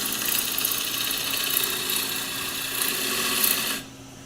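A wood lathe spins with a steady, close whine as a gouge cuts around a small corner of the workpiece, the hum cutting off abruptly near the end.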